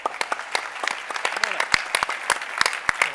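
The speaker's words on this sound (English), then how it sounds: "Give her a round of applause" Sparse clapping from a small group, individual claps distinct and irregular, fairly close, with no talking over it.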